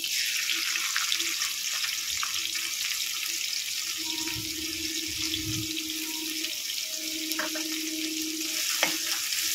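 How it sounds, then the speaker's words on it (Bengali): Onions frying in oil left over from fried fish and potatoes give a steady close sizzle with intermittent stirring scrapes and a few faint background tones, no talking. "পেঁয়াজটাকে লাল করে ভেজে নেব।"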